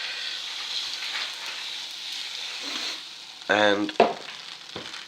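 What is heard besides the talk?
pancake batter cooking in a hot pan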